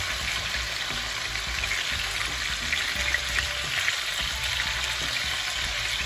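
Oxtail browns in a pot over medium-low heat, sizzling steadily and fairly close for several seconds, with no one talking.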